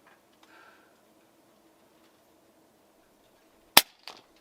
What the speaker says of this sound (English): Let's take our first shot.